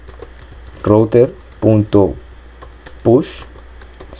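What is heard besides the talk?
typing code on a computer keyboard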